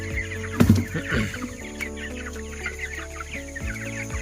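Chickens cluck and chatter close by, with a brief louder squawk near the start, over a steady farm-shed hum.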